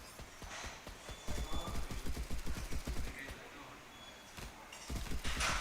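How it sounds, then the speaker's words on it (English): Rapid bursts of automatic gunfire from other players in the mobile extraction shooter Lila Black, fairly distant and quiet, with clusters of quick cracks that pause and resume. "Got all sorts of people shooting at me"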